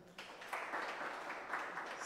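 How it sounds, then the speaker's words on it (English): Brief, moderate applause from an audience at an African precision-agriculture conference, a short burst of clapping that rises quickly and continues evenly. "Another round of applause."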